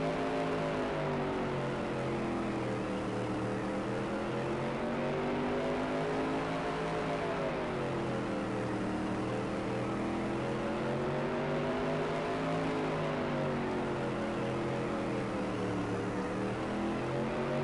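Race cars in a 75-lap feature race, a steady loud drone of many engines rising and falling in pitch as cars accelerate and pass, continuous throughout without break.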